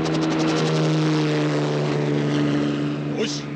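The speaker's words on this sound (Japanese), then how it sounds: "敵のパトロールヘリです。" An enemy patrol helicopter's rotor drones loudly overhead in a 1983 Japanese anime, Fang of the Sun Dougram, with a steady thudding hum, holding close throughout before a brief shift near the end.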